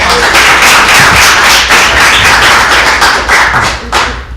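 Loud applause from an audience at a city meeting, a thick burst of many clapping hands that carries on for several seconds before tapering near the end.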